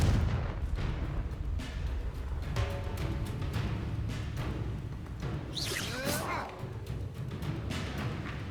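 Fire-spell blasts in Hogwarts Legacy, a run of booming explosive bursts with whooshing swishes, one bright sweeping swish midway, loud and close throughout.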